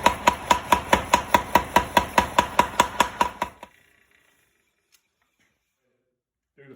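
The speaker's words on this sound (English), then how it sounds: "I'll spread it under the power hammer" Rapid, evenly spaced heavy metallic blows from a power hammer spreading hot steel, loud and close, about fourteen strikes before stopping into near silence.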